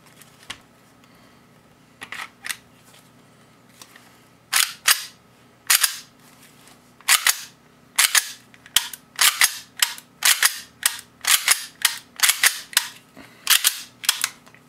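Gas blowback pistol fitted with a Chris Costa G17 slide fires and cycles in a steady string of sharp, close cracks, first scattered singles, then quick rapid bursts with a metallic slide clack after each shot.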